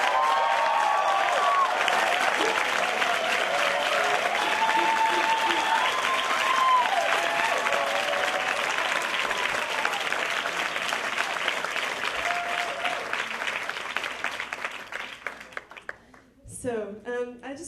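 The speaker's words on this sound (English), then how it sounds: "Can we give them a round of applause?" Sustained applause from a large crowd, loud and steady for most of its length, then thinning out into scattered claps near the end.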